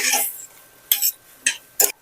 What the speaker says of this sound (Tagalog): Haluin dahan-dahan.